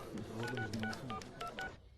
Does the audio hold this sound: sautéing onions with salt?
no